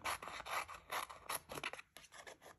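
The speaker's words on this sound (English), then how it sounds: "I'm just gonna do it with some snips." Snips cut an adhesive-backed sheet down to cardstock size, a quiet run of close crisp snipping and rasping strokes in uneven rhythm, with no talking.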